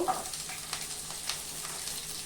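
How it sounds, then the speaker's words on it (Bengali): Onion frying in a pan for a raw banana kofta curry, a steady close hiss and sizzle with faint crackles, alone without talking. "পেঁয়াজটা আমি একটু ভেজে নেব।"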